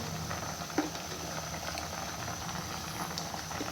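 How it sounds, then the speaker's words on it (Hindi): Meat with spices for palak gosht cooks in a pot, giving a faint, steady bubbling hiss with soft pattering and a small clink or two, quiet and unbroken, with no voice. "अब इसमें मसाले वगैरह डाल के मैं गोश्त को चढ़ा दूँगी।"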